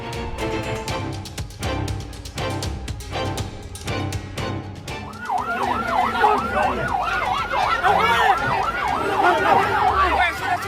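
An ambulance carrying an emergency patient moves along a carnival route, its siren wailing in repeated rising and falling sweeps over street noise and crowd sounds, following a run of rhythmic bangs at the start.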